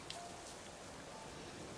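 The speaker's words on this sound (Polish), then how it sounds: "I no po prostu leje rzęsisty deszcz z nieba." Heavy rain pours steadily in The Witcher 3, a dense, even hiss of falling water with no talk over it.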